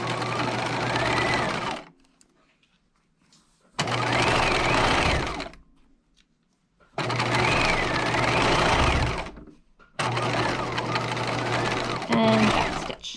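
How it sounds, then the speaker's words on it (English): A sewing machine stitches the upper edge of a dress around a dramatic curve, running in four loud steady bursts separated by short pauses, with a voice talking over it. "we're going to stitch this upper edge around that dramatic curve"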